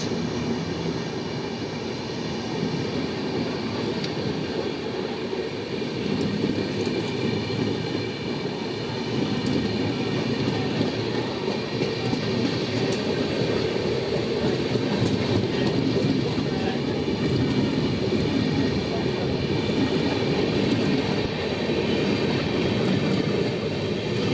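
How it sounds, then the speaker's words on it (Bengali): Jammu Tawi Express passenger train running between Dhanbad and Asansol, heard as a steady, continuous rumble of wheels on rails with faint clatter throughout, with no talking. "ট্রেন ধানবাদ জংশন থেকে আমাদের ছেড়ে কলকাতা স্টেশনের উদ্দেশ্যে এগিয়ে যেতে থাকলো"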